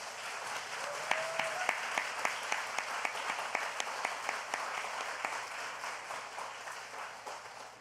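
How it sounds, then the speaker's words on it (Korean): A church congregation applauding in encouragement during a Korean worship service, dense sustained clapping from a full room, steady and moderately loud, with some faint voices mixed underneath. "우리 한번 박수로 격려하겠습니다"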